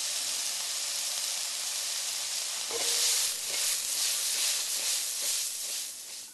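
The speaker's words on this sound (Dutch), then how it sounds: "De versneden prinsessenboontjes toevoegen en de plakjes champignon. Goed laten bakken" Potatoes, sliced green beans and mushroom slices frying in a wok, giving a loud, steady close sizzle with brief stirring clicks and no talking.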